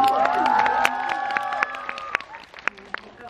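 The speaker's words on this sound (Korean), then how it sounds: "다시 한번 큰 박수" Audience at a film talk event in a Seoul cinema hall claps and cheers for a guest, a lively burst of applause with sharp individual claps and voices, tapering off as a speaker's voice comes through.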